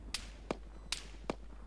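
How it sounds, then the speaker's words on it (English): Infantry gunfire in the video game Arma 3, four sharp distant cracks spaced evenly about every 0.4 seconds, faint and alone over a low hum. "That's infantry shooting."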